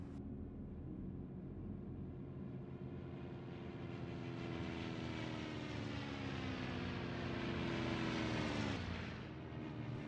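Propeller engines of WWII fighter planes in a flight simulator game, a steady loud drone with a rising pitch sweep near the end, continuous throughout with no talk.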